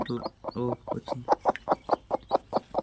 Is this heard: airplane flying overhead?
no